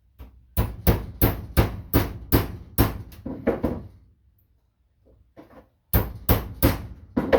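A hammer beats down the top of a Pelican Motion kayak seat part: a run of loud, evenly spaced close strikes, a pause with a couple of faint taps, then another quick burst of blows.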